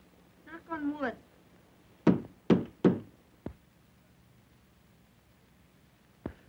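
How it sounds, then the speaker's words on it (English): Knocking on wood in a 1930 comedy film: three sharp, close knocks in quick succession, then a lighter tap and another single knock a few seconds later, with a brief voice just before them. "Knock on wood."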